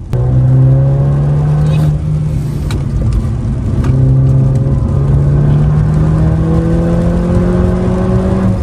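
A Mercedes A250 car engine hums steadily and rises in pitch as it accelerates, with a low whirring drone throughout and road noise underneath.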